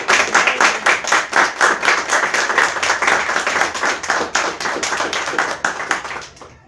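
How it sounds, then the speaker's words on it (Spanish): A church congregation claps in a steady, rhythmic beat at a lively, close pace, the sharp hand strikes sustained through a worship service before easing off at the very end. "Démosle un aplauso al Señor"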